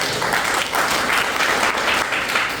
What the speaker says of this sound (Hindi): आप एक बार पुनः ताली बजाओ